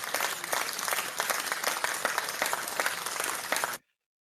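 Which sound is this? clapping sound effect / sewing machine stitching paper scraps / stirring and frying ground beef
clapping sound effect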